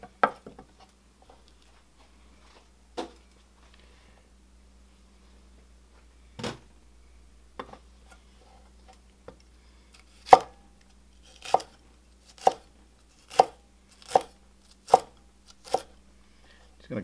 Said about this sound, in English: Just going to cut it to little cubes.